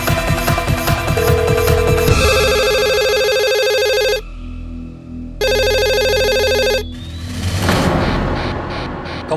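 A telephone rings again and again without being answered, its bursts of electronic ringing loud and close, with short gaps between them and a drama soundtrack underneath.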